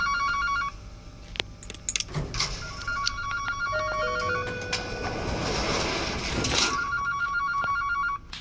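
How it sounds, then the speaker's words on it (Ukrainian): A telephone rings in the horror video game The Baby In Yellow, sounding in repeated bright bursts over other game noises, with a louder rush of activity midway. "Треба відповісти на дзвінок."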